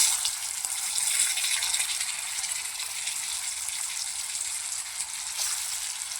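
Stuffed bitter gourds fry in oil in a pan as a steady, dense crackling sizzle with a fine rain-like patter. It stays even and continuous throughout at moderate, close range, with no talking.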